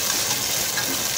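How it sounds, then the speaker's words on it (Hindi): Spice masala for chole roasting in a pan, a brief, even, fairly loud sizzle and crackle with no pauses and no voices. "इसको अच्छे तरीके से भून लें जब ये दानेदार हो जाए"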